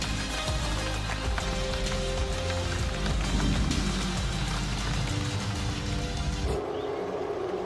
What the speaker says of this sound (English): it's currently raining outside